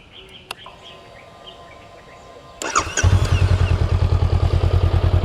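A stock-muffler Honda Rebel 500 motorcycle cranks and fires up after a few quiet seconds with faint birdsong, then settles into a loud, close, steady rhythmic idle putter.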